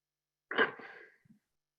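A single short sneeze during a board meeting, fairly quiet, followed by a faint sniff in an otherwise silent room.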